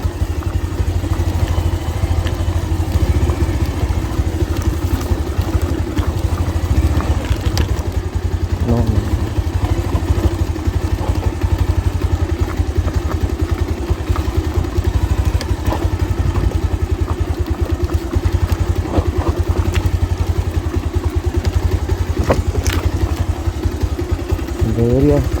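A motorbike rides over a rough, rocky, stony village road, its engine running loud and steady with rattling jolts throughout while a person talks over the noise.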